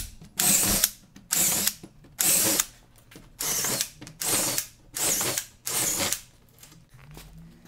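A ratchet wrench tightens bolts on a wood kiln frame built for drying live edge walnut slabs, sounding as seven close, loud bursts of rapid clicking, each lasting about half a second, separated by brief pauses.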